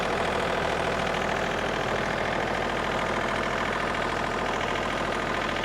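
First-generation John Deere 2032R compact tractor with a Yanmar-design diesel engine, running steadily at close range, a loud constant rumbling drone with a fine rapid pulse and no voices.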